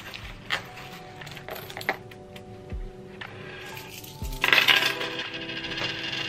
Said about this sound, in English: I'm gonna be emptying my coins.